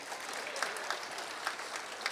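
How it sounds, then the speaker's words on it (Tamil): An audience at a Tamil comedy speech gives steady applause, a continuous, fairly faint patter of clapping with a few sharper claps standing out, no voices over it. "கைதட்டு வைங்கன்னு"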